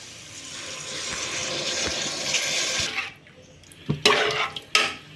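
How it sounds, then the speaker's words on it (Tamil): Water is poured steadily into rice in a pot for mutton biryani, a continuous close pour for about three seconds, then stops, followed by a few sharp clinks of a vessel, with no talking. "இப்போது இதில் ஒரு 6 டம்ளர் அளவுக்கு தண்ணி ஊற்ற போகிறேன்"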